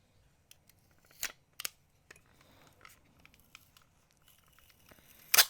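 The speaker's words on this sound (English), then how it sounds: "So take a piece of tape," Tape is snipped with scissors while a necklace is being made, a few sharp close cuts scattered among quiet handling noises, the loudest snip coming at the end, with no voices.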